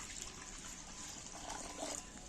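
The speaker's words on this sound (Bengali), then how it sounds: "কড়া বসিয়ে উনুন জেলে দিয়েছি এবার আমি এক মগ জল দিচ্ছি" Water poured from a mug into a pan set on a lit stove for cooking, a soft continuous splash and trickle lasting a couple of seconds, faint and close.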